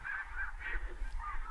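Canada geese honking during a solo goose hunt over a field decoy spread, repeated nasal calls in an uneven rhythm at moderate distance, over a steady low rumble of wind, with no voices.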